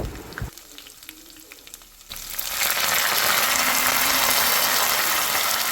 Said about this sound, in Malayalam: കുറച്ച് വെളിച്ചെണ്ണ ഒഴിച്ചു കടുകിട്ട് കഴിഞ്ഞാൽ പിന്നെ ചെറിയ ഉള്ളി ഇടുക ചെറിയ ഉള്ളി ഒന്ന് മൂത്ത് ഇങ്ങനെ വരുമ്പോൾ കറിവേപ്പില ഇടുക